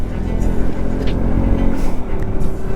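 A KTM RC 200 motorcycle labours uphill on a rough high-altitude mountain road near Kaksang La Pass, its engine droning steadily and close, with faint voices in the background.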